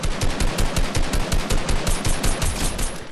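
Loud, rapid automatic gunfire in Fortnite, a steady run of evenly spaced shots, roughly seven per second, continuing without pause for the whole three seconds.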